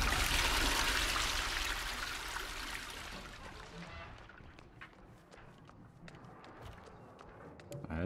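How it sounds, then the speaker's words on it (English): Toilet flushing in the Texas Chainsaw Massacre video game: a loud rushing gush of water that fades over a few seconds into a softer trickle, with small clicks and knocks and faint voices underneath. "Flush this toilet one more time."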